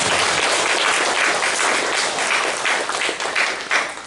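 A church congregation applauds the band and choir during a farewell worship service, a dense, steady wash of many hands clapping that stays loud throughout and thins slightly near the end.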